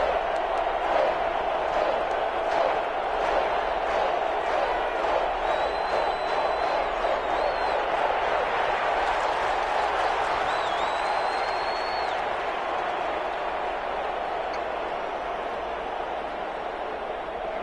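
Football stadium crowd at a 49ers game building noise ahead of a big third-down play, a steady broad roar with scattered whoops and cheers that holds loud throughout, fading slightly near the end.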